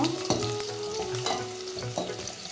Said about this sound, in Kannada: ಹಾಗೆ ಒಂದು ಸೆಕೆಂಡ್ ಫ್ರೈ ಮಾಡ್ಕೊಳ್ಳಿ ಫ್ರೈ ಮಾಡ್ಕೋಬೇಕು